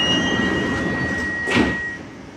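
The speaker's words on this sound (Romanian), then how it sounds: "Atenție, se închid ușile." A Bombardier Movia BM21 metro train's doors close with a steady warning tone and then a short sliding thump, heard up close inside the carriage.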